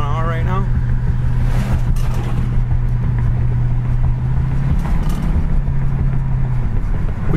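A red 1966 Ford Mustang GT cruises steadily at about 45 mph, its engine drone and road noise constant and close throughout, with someone talking over the top.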